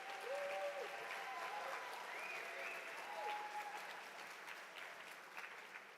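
Audience applause at a tribute and exhibit honoring a singer: a dense, steady wash of clapping that fills the whole stretch, with a few faint whistles or cheers riding on top before it gradually tapers.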